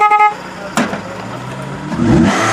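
A Chrysler PT Cruiser with no alternator runs roughly at an offroad race event: a near, harsh engine drone that lurches with a sharp burst and swells rougher toward the end, after a brief tonal blare at the start.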